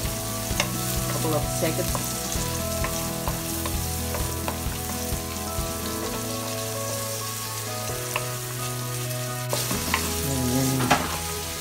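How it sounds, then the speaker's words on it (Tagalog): Chicken tinola ingredients saute in a pan with a continuous crackling sizzle and frequent clinks and scrapes of a stirring utensil. A voice speaks a few words briefly. "Saute for a couple of minutes."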